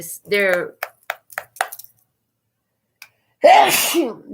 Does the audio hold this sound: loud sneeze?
yes